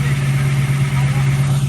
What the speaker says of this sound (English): It's idling a little high, but that's because we did a cam and we didn't change anything with the carburetor.